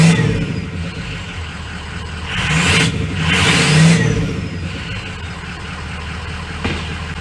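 A 6.0L Powerstroke diesel truck fitted with a new turbo, running with a loud rumbling engine note, revving up twice in surges before settling back toward idle, close by and without speech.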